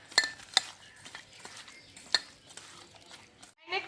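Chicken marinade being mixed with gondhoraj lemon juice in a bowl, a spoon or utensil scraping and clinking against the dish in several sharp taps spread through a soft stirring sound.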